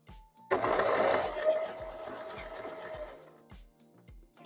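Sewing machine stitching rows on a quilted tote bag: a loud steady motor whir with rapid needle clatter that runs for a few seconds, then slows and stops, leaving a few soft thumps.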